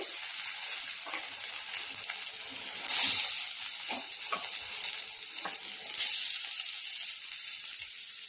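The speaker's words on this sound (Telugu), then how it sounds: "బంగాళదుంప బాగా ఎర్రగా ఫ్రై అయ్యేలాగా ఫ్రై చేసుకున్నా" Sliced potatoes sizzle in a spoonful of hot oil in a pan for a spicy potato fry, with steady crackling and two louder hissing swells as they are stirred. The sound is close, with no one talking.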